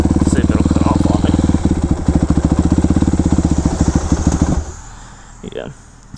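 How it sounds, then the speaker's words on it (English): A Yamaha YZ 426F motorcycle engine idles up close with a steady, rapid thumping pulse that holds loud for about four and a half seconds, then cuts off and fades, leaving faint background sounds. "Still probably idled just a hair low."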